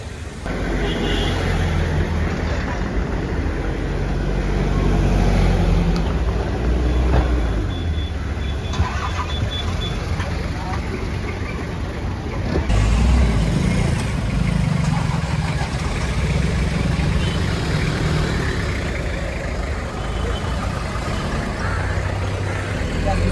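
Several Toyota Qualis vehicles maneuver into a line-up at a meet-up in Mumbai, engines idling and rumbling close by over a continuous bed of crowd chatter, with people talking throughout.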